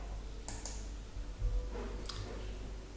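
Two quick mouse clicks, a close double tap on the apply button in engineering software, then another soft pair of clicks a moment later against faint room hum.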